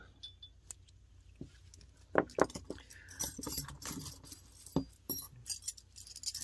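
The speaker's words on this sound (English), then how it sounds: "You can hear the clinking, so part of those, we call them the chimes or the needles." Delicate glassy clinks and chimes of obsidian needles knocking together, irregular taps scattered over several seconds, close and fairly quiet.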